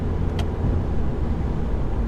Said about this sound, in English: Hear the tyres going. Those are the rear tyres as well, by the way.